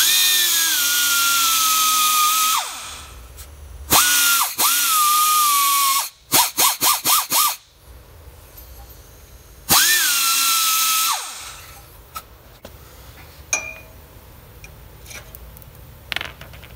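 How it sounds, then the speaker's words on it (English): A power tool cuts a seized bearing off a trailer wheel spindle, a loud high whining grind in several bursts: two long runs, a few short stuttering pulses, then another long cut, followed by quieter tapping and handling noises. "I gotta cut the old bearing off because she seized on the spindle."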